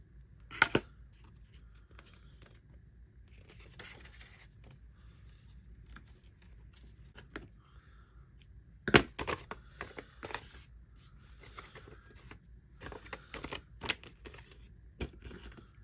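Small scissors snip loose threads on a handmade clear envelope, giving a few sharp isolated clicks scattered across quiet pauses, with faint rustling between.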